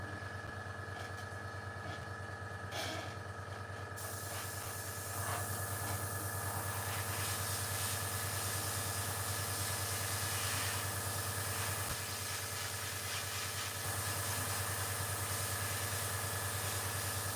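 An airbrush or spray gun hisses steadily while black paint goes onto the grills of a Class 40 model locomotive during weathering, a continuous close, even spray with no talking.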